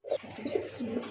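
A red Gorra pigeon coos close by, a short series of soft throaty rolling notes with no other sound.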